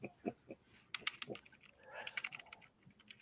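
Rapid typing on a computer keyboard in irregular bursts of close, crisp key clicks, fairly quiet, with short pauses between runs.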